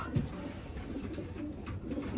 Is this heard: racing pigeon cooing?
yes